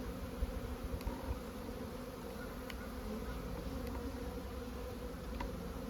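Honey bees buzz steadily around a beehive in early spring, a dense, continuous drone of many insects close by, with a few faint clicks and no talking.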